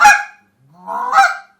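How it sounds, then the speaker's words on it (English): Two loud, drawn-out honks from a Slayer Leg Iron short reed Canada goose call, heard alone with a brief silent gap between them, the second rising into a moaning note. "So this goose call I'm using here, this is Slayer's leg iron series, I believe."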